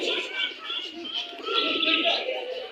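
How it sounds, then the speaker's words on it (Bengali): Pigeons in a pigeon house coo and chirp in a busy, overlapping chorus, fairly faint and continuous, with a voice murmuring faintly beneath. "আসেন আমরা কিছু কবুতর দেখি, আপনাদের দেখাই।"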